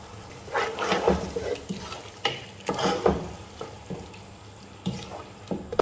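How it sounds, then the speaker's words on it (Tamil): Tomatoes sautéing in a pan for chicken biryani make a sizzle broken by repeated stirring and scraping bursts, fairly close and moderately loud. "இப்போ தக்காளி சேர்த்துட்டு கொஞ்சம் வதக்கி விட்டுறலாம்."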